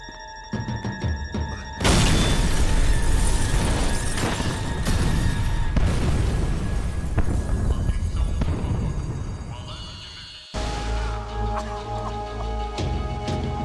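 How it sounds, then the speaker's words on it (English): A bomb goes off in the Max Payne 3 video game, with a sudden loud broadband blast that sustains as a heavy rumbling roar for several seconds, then cuts abruptly to a lower humming, ringing aftermath. "Oh, shoot, a bomb."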